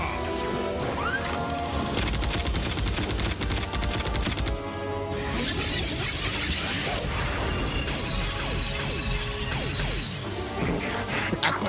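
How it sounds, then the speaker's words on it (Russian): A sustained barrage of crashing, smashing impacts and rapid gunfire-like bursts from all guns firing in the animated series Transformers: Beast Wars, loud and dense throughout with no pauses. "Открыть огонь из всех орудий!"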